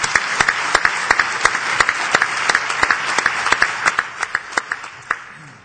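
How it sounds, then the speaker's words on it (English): An audience at a mayors' conference applauds five city livability award finalists, fairly close, with crisp individual claps that thin toward the end. "let's give a big round of applause to those five"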